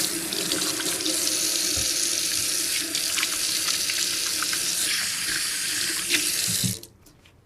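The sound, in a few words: washing hands under a running tap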